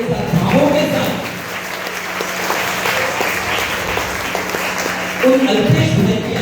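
An audience at a religious gathering applauds, a broad wash of clapping held steady for several seconds, with a voice speaking over it at the start and again at the end.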